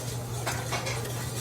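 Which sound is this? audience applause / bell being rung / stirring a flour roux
stirring a flour roux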